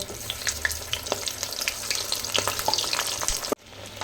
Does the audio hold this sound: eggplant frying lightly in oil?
yes